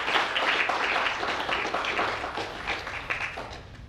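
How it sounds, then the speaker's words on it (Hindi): Audience applause at a 75th birthday celebration, a dense burst of hand clapping from a hall full of people, steady and fairly loud throughout before easing slightly at the end. "सदन की जोरदार तालियां आपके कर्मशील जीवन को समर्पित।"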